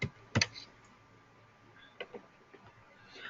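Typing on a computer keyboard, a few sparse clicks and keystrokes in quiet surroundings, one louder burst early then scattered light taps, close and faint.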